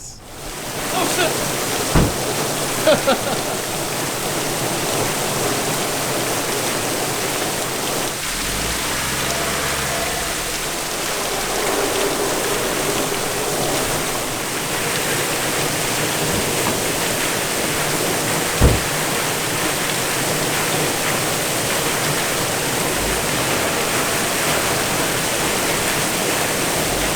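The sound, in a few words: waterfall dripping onto road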